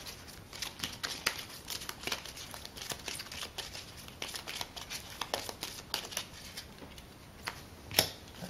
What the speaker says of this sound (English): Okay, let's shuffle up.